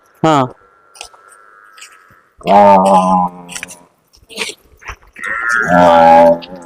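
Haryana Murrah buffaloes low in loud, close calls, three separate drawn-out moos with quiet gaps and faint chewing and shuffling between them.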